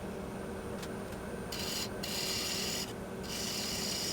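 Granadillo wood bowl turning on a lathe, a steady close rasping rush of the tool cutting into the spinning blank, with bright surges of shaving noise as the cut deepens and eases.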